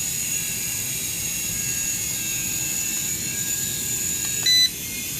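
SYMA S107H altitude-hold RC helicopter coming in to land, a steady high-pitched whine of small rotors and motor held close throughout, ending with a brief louder bump.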